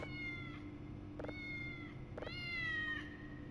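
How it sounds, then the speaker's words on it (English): Three rising, high-pitched cat meows from the horror video game Voice of the Void, each clear and close, separated by short pauses over a low background hum. "Cats."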